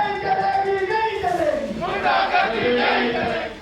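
Doctors and paramedical staff protesting outside PIMS hospital chant slogans against the government and the MTI ordinance, a loud crowd of voices shouting in unison in rising, rhythmic bursts.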